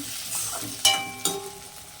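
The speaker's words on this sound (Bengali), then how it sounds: "বেরেস্তা ভাজা করছি।" Onions fry in a pan for biryani beresta, giving a soft sizzle with stirring scrapes and two sharp metallic clinks of the spoon against the pan. The sound is close and fairly quiet.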